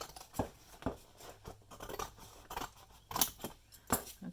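Scissors snip paper being trimmed along a fold line for a handmade journal, with several quiet, crisp cuts spaced irregularly and soft paper handling between them.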